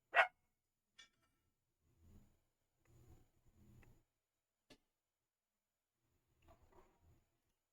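A pet dog barks indoors in a few short, scattered bursts at close range, with sharp clicks and quiet gaps in between.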